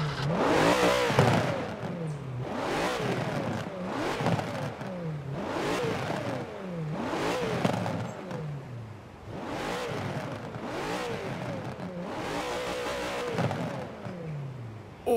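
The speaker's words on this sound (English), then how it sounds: "Let's rev the thing up." Ascari KZ1 R supercar engine in Forza Horizon 4 revved repeatedly, about seven sharp rising-and-falling bursts in a steady rhythm, loud and close with no speech.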